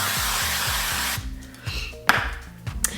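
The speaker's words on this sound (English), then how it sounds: "lightly grease the baking sheet with nonstick cooking spray" A short hissing burst of nonstick cooking spray onto a baking sheet, followed by a few light taps and clinks of the pan; no voices.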